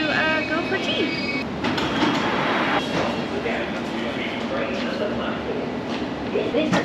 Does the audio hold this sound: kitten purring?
no